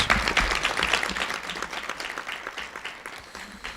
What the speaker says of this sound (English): So if you could please give her a round of applause.